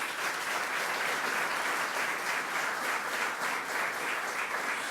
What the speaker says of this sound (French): on applaudit invité